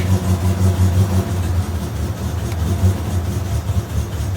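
A Triumph Spitfire Mk4 engine on full choke idles unevenly, with a steady low rumble that swells and dips in a lumpy rhythm, close and loud with no talk.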